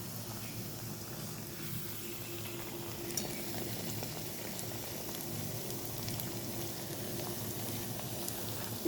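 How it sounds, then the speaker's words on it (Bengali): Jalebi fries in a pan of hot oil with a soft, continuous sizzle and bubbling, fairly quiet and steady, with a few faint clicks of utensils and no talking. "একটু শক্ত হোক, ওই পিঠটা ভাজা ভাজা হোক"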